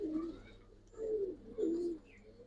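Silver Giribaz pigeons of an old breed line coo softly nearby, three low throaty calls in a slow, uneven rhythm over a quiet background.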